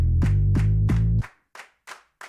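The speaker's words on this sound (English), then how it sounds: "I still really like that lead in with the clap" Four crisp hand claps ring out in a steady rhythm under a sustained musical chord as a song lead-in, then three more claps follow alone after the chord cuts off, each with a short decay.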